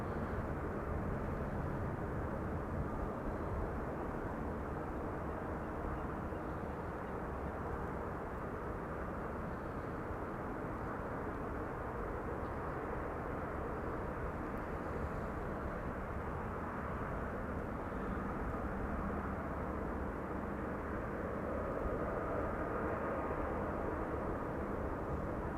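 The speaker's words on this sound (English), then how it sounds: "Iberia Express flight 1791 will land on the runway." An Iberia Express airliner comes in to land at Amsterdam Schiphol Airport, its engines a steady, broad roar that holds level and loud throughout, with no voices.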